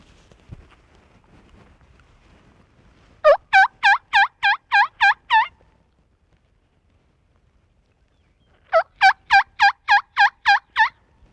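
A hand-directed mouth turkey call imitates a gobble in two separate bursts of about eight rapid, ringing pulses each, loud and close, with near silence between them.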